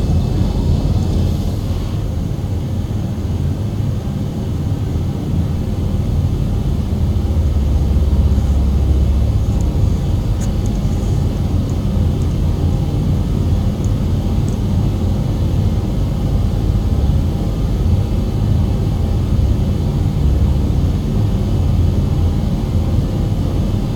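Low, steady engine rumble of a fixed-wing aircraft on landing approach to an Adelaide airfield in a flight simulator game, a continuous drone holding at the same level throughout with no talk.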